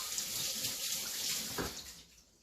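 A kitchen tap runs as hands are rinsed under it after handling raw meat, a steady splashing wash that fades toward the end, with no voices.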